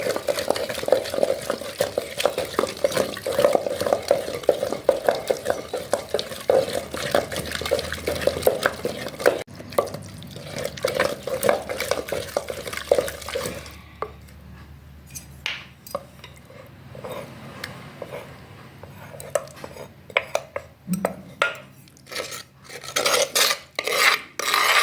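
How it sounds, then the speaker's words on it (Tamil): Cooked spinach greens are mashed with a wooden churner in a pot, giving continuous rough scraping and rubbing strokes, dense at first and then broken into sparser, sharper scrapes with pauses. "நான் உங்களுக்கு கடைஞ்சிட்டு காட்டுறேன்."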